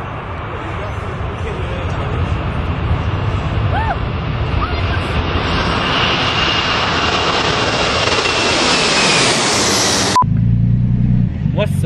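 A loud Chevrolet Omega with a modified, cut-spring setup roars up to a sustained, rising jet-like howl close by, sounding like a Boeing 747 taking off, before cutting off abruptly near the end; people talk over it.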